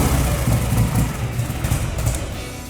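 A steady, low engine idle runs throughout, smooth and fairly quiet with a soft rumble and no revving, from a car being inspected on the Northern Beaches.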